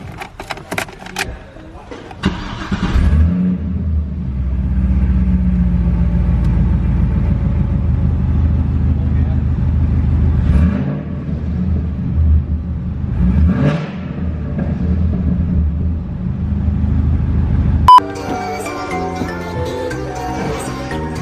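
Cadillac CTS-V with an LS engine and a new Katech belt tensioner starts after a few clicks and jingles, then settles into a steady, moderately loud idle rumble with slight rises before other sounds take over near the end.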